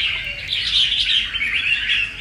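A caged songbird calls in bright, rapid chirps and trills, close and fairly loud, sounding almost continuously over a faint background with no talking.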